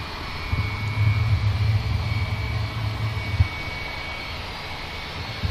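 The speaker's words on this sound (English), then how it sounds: "Probably hear the engines being started up as well." Jet airliner engines spooling up during pushback at Manchester Airport, a steady low rumble with a faint high whine, distant and continuous throughout without talk.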